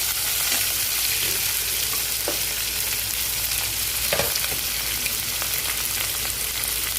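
Chopped onion fries in a pan until reddish, giving a steady close sizzle and hiss throughout, broken by a few soft scrapes and clinks of a spoon.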